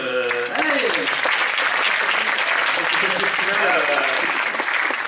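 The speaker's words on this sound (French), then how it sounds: "Applaudissez-vous parce que vous le méritez." Sustained applause from a large audience at a film festival opening fills the whole stretch, dense and steady, with a voice briefly heard over it near the start.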